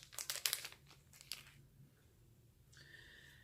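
A small pop socket pouch being opened, with sharp crinkling and rustling of packaging in short bursts that fade into quiet handling noise and a faint background tone.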